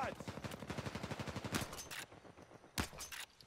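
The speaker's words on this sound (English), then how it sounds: "Put some shots down from above." Rapid automatic gunfire in Uncharted 4 multiplayer, a fast steady stream of shots followed by a louder single blast, heard faintly under a game mix with occasional talking.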